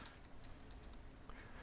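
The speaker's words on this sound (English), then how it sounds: "as soon as I start typing in a name" Steady typing on a computer keyboard while entering a name into an email field, with a run of quick, even key clicks close up over faint room noise.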